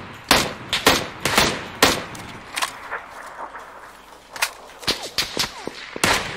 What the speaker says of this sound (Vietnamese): Bắn lốp xe rồi anh ơi.